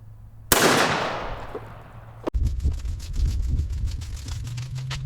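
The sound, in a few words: shotgun firing Hevi-Shot Magnum Blend shot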